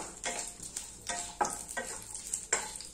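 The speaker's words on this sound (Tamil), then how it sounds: "ஒரு பட்டை, ஒரு ஏலக்காய், ஒரு 4 கிராம்பு, இதை மட்டும் நம்ம வந்து ஃபர்ஸ்ட் வந்து வறுத்து எடுத்துக்கலாம்" A pan of whole spices is dry-roasted: one cinnamon stick, one cardamom pod and four cloves. About six brisk, close scraping strokes of a spoon are heard, each followed by a soft sizzle that fades between strokes.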